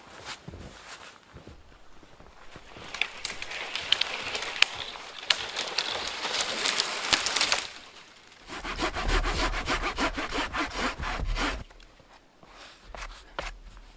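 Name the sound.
sawing firewood outdoors in snow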